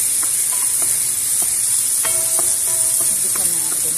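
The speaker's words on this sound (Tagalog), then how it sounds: "Igisa natin para isabay natin dyan sa breast chicken." Onion and garlic sautéing in a pan with browned chicken breast for white pasta: a steady loud sizzle throughout, with scattered clinks and scrapes of a utensil stirring against the pan.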